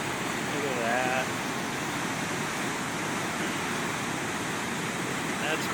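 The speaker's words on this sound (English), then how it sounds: "the water's rushing through that narrow kind of slot canyon there" Water rushing through a narrow slot canyon in Jasper National Park, Alberta, a steady broadband roar that fills the whole stretch without letting up, with a faint voice briefly audible near the start.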